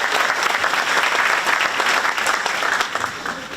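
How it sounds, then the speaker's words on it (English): Dense, loud audience applause for school support staff at an eighth-grade spring concert, a continuous wash of clapping that holds steady throughout. "Please, a round of applause."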